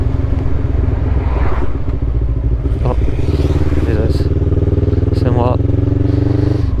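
A motorcycle engine hums steadily throughout, close and loud, with a voice talking over it and occasional clatter.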